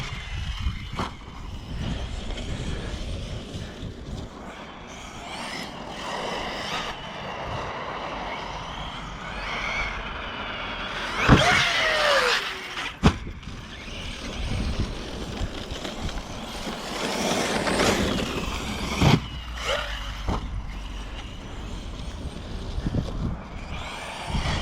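Traxxas Sledge RC monster truck driving over rutted ground, its electric motor whining continuously with throttle bursts, braking, and sharp impacts as it flips and lands, recorded close throughout the run.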